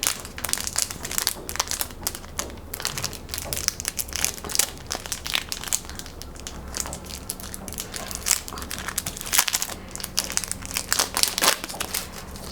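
A crinkly plastic packet holding a sheet of small earring-support stickers is opened and handled, a long stretch of dense, close crackling and crumpling with no voices.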